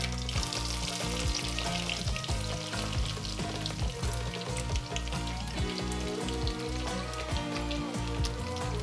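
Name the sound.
garlic and panch phoron seeds frying in hot oil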